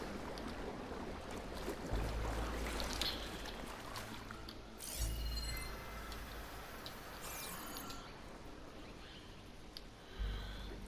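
Water streams continuously in the video game Horizon Forbidden West ruins, a broad rushing hiss broken by a few low thuds and brief bright metallic swells, with no voices.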